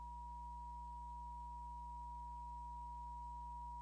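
Steady electronic test tone from an audio interface, a pure sustained pitch with harmonics and low hum, holding continuously at a fairly constant level with no voices.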